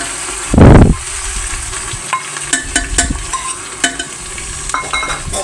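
Ginger-garlic paste dropped into a pan of fried onions for a spicy Bihari-style chicken curry, giving a loud burst of sizzling, then steady frying crackle with scattered spoon scrapes and stirring clinks.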